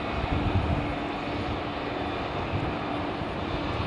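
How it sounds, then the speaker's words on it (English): A parked jet at London Heathrow Airport with its auxiliary power unit running gives a loud, steady broadband roar and whine that fills the clip without change. "Noise that you can hear, folks, is that jet there that's just been pulled round to maintenance. She's got her APU running"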